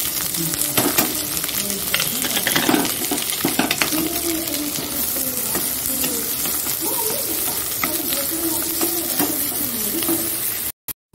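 Chilli and onion hit hot oil in a pan for an egg curry. The result is a loud, close, continuous sizzle with occasional stirring scrapes and clinks, ending in a brief dropout.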